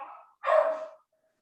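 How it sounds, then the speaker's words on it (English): A single dog gives one short, muffled bark in the background of a quiet indoor room, faint and distant, with nothing else around it. "Just excuse the dog on the side."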